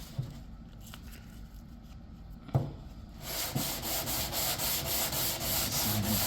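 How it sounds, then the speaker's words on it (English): Abrasive sanding scrapes across the front end of an Aston Martin DB6, first as a softer rubbing and then as louder, steady back-and-forth strokes close to the mic. "Sanding back over it until"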